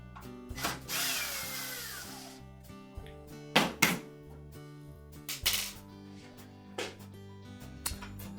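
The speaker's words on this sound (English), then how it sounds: "next we'll remove the two retaining screws for the inner panel" A power drill backs out the retaining screws on the inner panel of a Maytag dryer, giving one sustained whirring run followed by shorter bursts and metallic thunks, fairly close and clear, with no talking.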